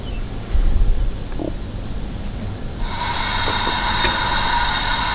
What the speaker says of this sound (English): which should sound like a steam engine